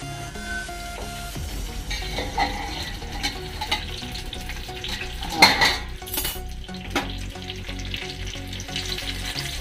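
Stuffed brinjal cooking in a pan on a low gas flame, a steady close sizzle and frying crackle joined by metal utensil clinks and scraping against the pan, with no one talking.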